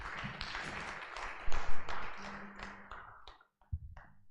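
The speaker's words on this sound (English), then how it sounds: "So I invite us to clap for our three speakers." An audience claps for three speakers at a congress session in Accra, a burst of applause that thins out into scattered taps and a few final claps.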